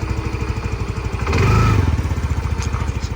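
An old-model TVS Jupiter 125 scooter engine runs with a steady, close, rhythmic idle that briefly swells louder and rougher mid-way as it is revved, then settles back to an even putter.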